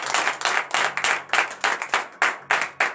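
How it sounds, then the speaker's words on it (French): A congregation claps loudly at a morning prayer service, rhythmic hand claps in steady repeated bursts, close and strong, with no talking. "Je vous demande d'applaudir très fort"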